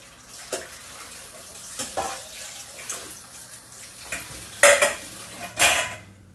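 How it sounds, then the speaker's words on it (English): A bowl being washed under a running kitchen tap, with water splashing and a few louder clattering bursts near the end, close and fairly loud. "So I'm going to wash this bowl."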